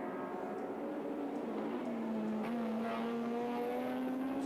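Touring race cars roar around Sandown circuit in 1984, a steady loud engine drone with a rising pitch as they pass at speed.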